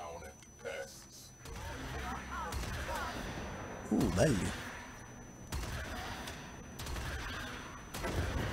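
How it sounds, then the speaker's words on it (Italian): Enemy cannons firing repeatedly in the Warframe video game, booming and crackling in bursts through a dense, busy battle mix, with someone talking over the gunfire. "Cannoni presumibilmente che spammano."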